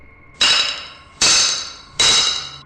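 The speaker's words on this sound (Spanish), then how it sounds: "sonidos parecidos al golpe de un martillo" Three evenly spaced hard hammer blows ring out sharply, each a bright metallic clang that decays slowly before the next strike.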